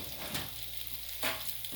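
Ginger and garlic frying gently on low heat in a pan, a soft steady sizzle with two brief louder bursts of crackle, close and without talk.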